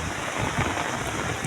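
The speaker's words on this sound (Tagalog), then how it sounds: "Ayaw talaga kumagat ng mga master dahil tuloy-tuloy ang buhos ng ulan dito sa Marikina River." Steady rain patters at the Marikina River, a dense hiss of drops falling continuously at moderate volume with no voices.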